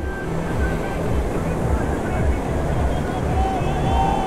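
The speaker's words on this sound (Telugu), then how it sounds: "వేవ్స్ చాలా పెద్దగా వస్తున్నాయి ఈసారి." Large ocean waves break and wash in steadily on Baga Beach in Goa, a loud continuous roar with wind buffeting the microphone and a voice speaking over it.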